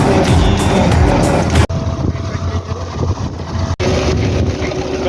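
A tractor pulls an ORIGIN SEED 3.0 seeder across a field during soybean sowing: a steady engine drone runs throughout, with heavy wind buffeting the microphone and a voice speaking over it.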